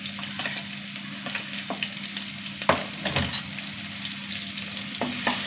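Small shallots, ginger, garlic and fenugreek seeds fry in hot oil in a pan, sizzling steadily with repeated scraping stirs and clinks, close and without voices.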